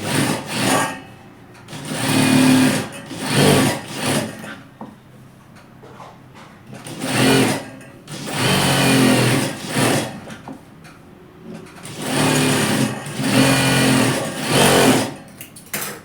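Repeated short runs of a sewing machine stitch a pocket onto capri pants, each burst a second or two long and fairly loud and close, broken by brief quiet gaps.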